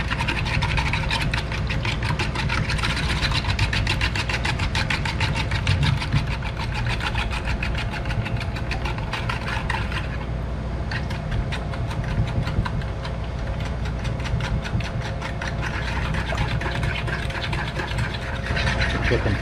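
Banana muffin batter with eggs is mixed in a bowl by a steady, buzzing electric mixer that runs continuously and loud throughout.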